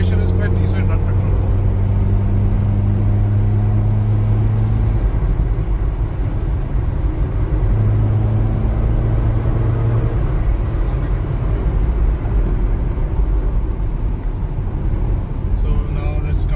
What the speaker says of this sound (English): The acceleration is quite decent on petrol.